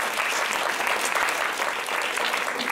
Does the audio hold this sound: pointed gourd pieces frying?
no